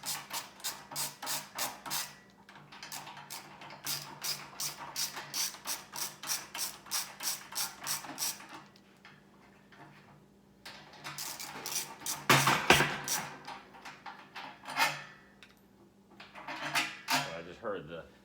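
Metallic clicking and ratcheting rattles in quick rhythmic runs as the spider and agitator are worked loose from an LG washing machine, with a sharper clank midway and someone talking in between.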